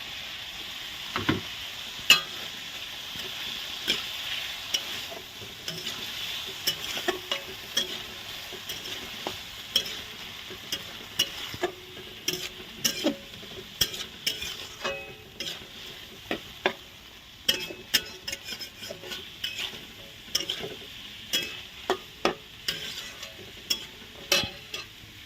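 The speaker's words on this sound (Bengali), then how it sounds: "মশলাটাকে ভালো করে কষে নিয়েছি" Chickpeas, potatoes and poppy seed paste frying in a pan, with a low constant sizzle under repeated spatula clicks and scrapes that come faster toward the end, close and fairly quiet, no talking.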